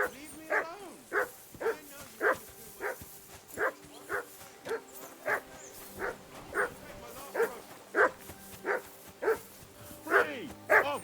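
Repeated dog barks from Kingdom Come: Deliverance II, over a dozen sharp yelps in a steady rhythm across the whole stretch, close and loud, with faint background tones between barks.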